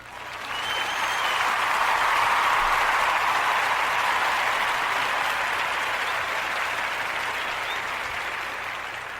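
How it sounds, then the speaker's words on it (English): Audience applause for the people being honored: a dense, steady wash of many hands clapping that swells in quickly and holds strong for about nine seconds before easing slightly. "Let's give them a round of applause."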